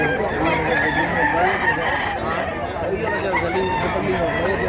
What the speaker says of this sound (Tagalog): Manok, daming manok.